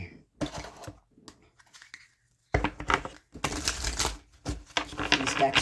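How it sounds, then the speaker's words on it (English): Several bursts of tarot cards being riffled and shuffled, separated by short pauses, close by with quiet handling noise between. "these decks are so easy to shuffle, it's crazy"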